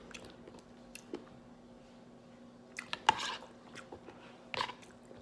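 Someone chews crisp pomegranate seeds in a bowl of fruit and coconut water, with faint soft crunches and a few louder close bites and squishes over a quiet room hum.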